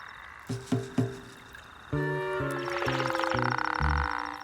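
A male toad in an Arabian desert wadi calls, starting with three short croaks, then a loud, rapid pulsing trill that runs on steadily, close and clear with no other sounds.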